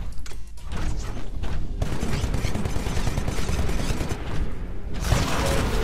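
A Titan's Vortex Shield in Titanfall hurls captured ballistics back out: a loud, dense stream of rapid gunfire and mechanical clatter that runs almost continuously before shifting into a brighter burst near the end.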